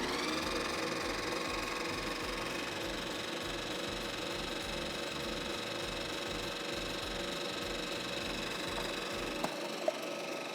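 A food processor motor hums steadily while mixing powdered sugar with gel food coloring, an even buzzing drone lasting about ten seconds at moderate volume, with a couple of faint clicks at the end and no talking.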